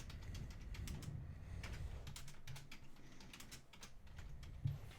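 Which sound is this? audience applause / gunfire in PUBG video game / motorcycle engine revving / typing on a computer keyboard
typing on a computer keyboard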